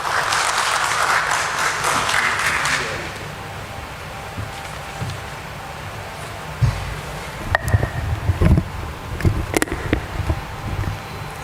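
Applause at a stock exchange listing ceremony for a steel company, a loud burst of clapping for the first few seconds that cuts off, followed by quieter room noise with scattered bumps and knocks.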